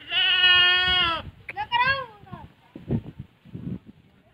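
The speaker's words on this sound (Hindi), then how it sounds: "और देखिए ये बकरी बकरी भी इसमें आ जा रही है अंदर" A goat bleats loudly and nearby at a stupa site, one long wavering bleat followed by a shorter one, then people talk in the open air.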